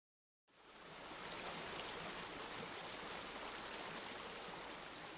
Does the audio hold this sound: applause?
no